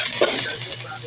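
Garlic sautés in a pan for a Filipino fish cardillo dish, giving a loud, continuous close sizzle with a faint stir or clink.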